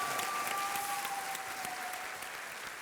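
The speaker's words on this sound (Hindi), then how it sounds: "तालियों के साथ इनका स्वागत किया जाए।" A studio audience on the Hindi quiz show Kaun Banega Crorepati gives steady, even clapping to welcome a contestant. The brief burst runs without speech, with a faint tone sounding over it.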